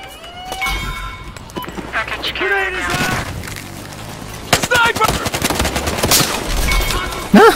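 Gunfire in the cop-and-criminal shooter Battlefield Hardline: bursts of automatic fire and sharp single shots crackle irregularly, fairly loud and close, with a voice talking over them.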